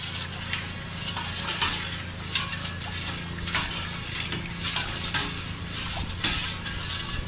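Buko jelly ingredients being stirred in a container, a continuous scraping, clattering mix with a steady rhythm of utensil strokes, close and moderately loud with no talk.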